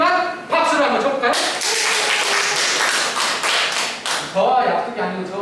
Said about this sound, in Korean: 실천하실 분들만 박수를 한번 쳐볼까요?